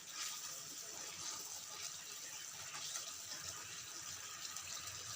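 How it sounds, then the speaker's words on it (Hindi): Water comes to a full rolling boil in a pot on a gas flame while methi dana sabji is being cooked, giving a steady, soft bubbling and hissing that continues evenly throughout. "आप देख सकते हैं अच्छी तरह से उबाल आ गया है।"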